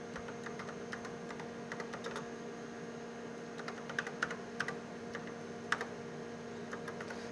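Keystrokes on a computer keyboard as a command is typed into a PUMA robot arm controller, light irregular clicks in bursts over a steady mains hum, close and fairly quiet.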